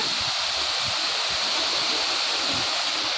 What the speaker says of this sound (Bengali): এই দেখতে পাচ্ছ পাহাড়ের জল, এই দেখো পাহাড়ের জল